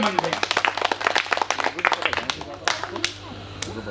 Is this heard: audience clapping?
yes